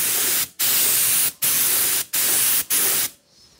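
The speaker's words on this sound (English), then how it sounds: "So what I'm doing is spraying on the box first." A spray gun hisses in four bursts while spraying leather restoration paint onto a box, each about half a second apart with brief gaps between, close and loud, then falls quiet.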